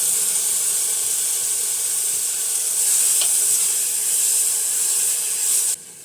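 Onions and tomatoes hit a hot pan of oil and cumin for bhindi masala, giving a steady, loud sizzling hiss that holds throughout and drops away sharply near the end.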